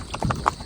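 Horse hooves clip-clop in a short burst of a few uneven, close steps, rather faint, with no talk over them.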